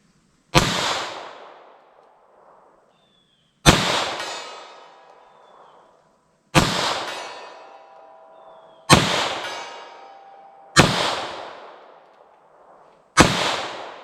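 Six sharp, loud revolver shots ring out one at a time, a couple of seconds apart, each with a fading tail. They come from .32 S&W Long and .38 Special +P snub nose revolvers firing Magtech SJHP ammunition at a silhouette target.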